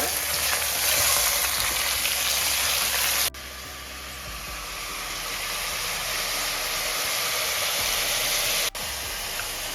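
Loud, steady sizzling of 1 kg of goat meat frying over medium heat in a hot pan, continuous throughout with a brief dip partway and a short break near the end.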